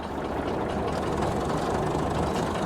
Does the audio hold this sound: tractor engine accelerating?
yes